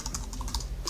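Typing on a Bluetooth keyboard, a quick close run of light key clicks lasting under a second, with no talking.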